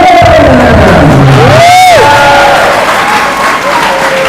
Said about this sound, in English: The crowd is pumped for these kids.